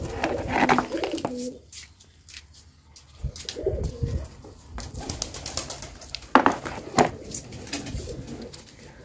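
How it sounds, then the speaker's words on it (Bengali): Pigeons coming to eat scattered food coo in low rolling phrases, with scattered clicks and rustles between calls, fairly close. "এখানে পায়রাদের খাবার দিয়ে দিয়েছি, আর পায়রাগুলো চলে আসছে খাবার খেতে"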